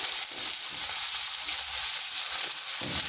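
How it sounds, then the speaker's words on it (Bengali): Long sliced onion frying in hot oil with whole cumin seeds, a steady close-up sizzle with a continuous bright crackle, with no voices over it. "পেঁয়াজটাকে হালকা একটু ভেজে নিচ্ছি।"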